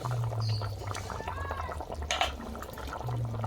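Cooked raw banana curry finished with ghee and garam masala slides out of a pan into a dish, giving a thick wet pour with soft scrapes and a light clink partway through.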